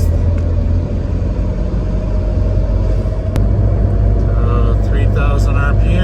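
A Mitsubishi Evo MR cruises in sixth gear at about 3,000 RPM with a loud, steady, low engine drone throughout, while someone talks over it.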